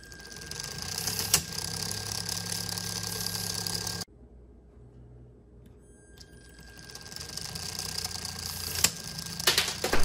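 Motorized M&M launcher loaded with real M&Ms, whirring loudly with a rattling mechanical buzz, stopping abruptly into near silence, then spinning back up and rising in level with sharp clicks of firing.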